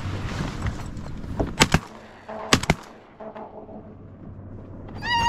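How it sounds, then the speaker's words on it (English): Shotgun blasts ring out while duck hunting green-winged teal from layout boats in flooded corn, two sharp loud reports with outdoor echo over wind and rustling, then a quieter stretch ending in faint bird calls. "I'm gonna shoot a green wing."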